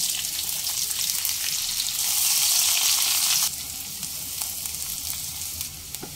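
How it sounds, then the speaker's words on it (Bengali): Two chopped medium onions hit hot oil that was already used for frying, in a kakrol (spiny gourd) dish. A loud, close hiss surges for a few seconds, then settles into a softer, steady sizzle. "ওই একই তেলের মধ্যেই 2টো মিডিয়াম সাইজের পেঁয়াজ কুচিয়ে রেখেছিলাম দিয়ে দেব।"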